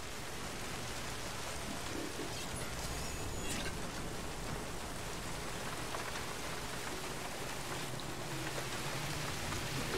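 Steady rain pours down in the video game The Bureau: XCOM Declassified, a dense, even hiss of falling drops continuing for the whole stretch with no voices over it.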